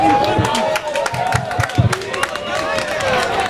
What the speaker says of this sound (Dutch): we vragen graag u applaus voor de wethouder van de gemeente Heergewaard